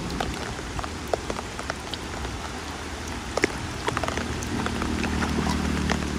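Heavy downpour pattering on surfaces outdoors, a dense continuous hiss with scattered sharper drops and splashes, steady and fairly close, without talk.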